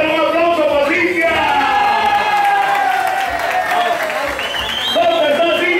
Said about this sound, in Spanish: A ver, un aplauso para Cintia.